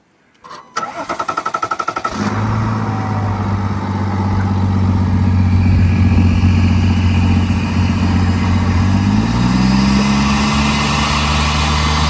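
A 3.0 Duramax diesel truck engine with a resonator delete and S&B intake cranks briefly and fires up, then settles into a loud, steady diesel idle nearby with a slight pitch shift near the end.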